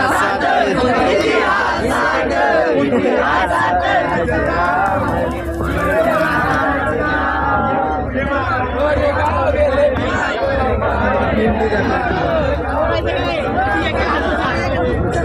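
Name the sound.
large crowd queuing at Bhima Koregaon Shaurya Din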